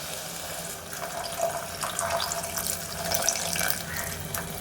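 Water poured into a pot over beef pieces until the meat is covered for cooking, a steady splashing flow with uneven bursts, close and moderately loud.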